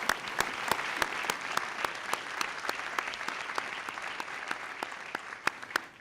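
An audience at a county State of the County event claps in a steady, moderately loud round of applause, many hands patting evenly for several seconds with a few sharper claps standing out, no talking.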